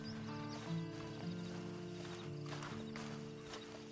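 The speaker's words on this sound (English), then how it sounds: "And you better get on this horse." Horse hooves clip-clop at a walking pace in Red Dead Online, with a brief whinny, set against a soft game-like ambient background.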